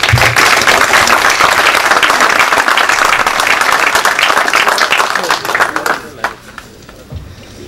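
Applause for engineers at an award ceremony, a large room of colleagues clapping loudly and continuously for about six seconds before it tapers off and fades.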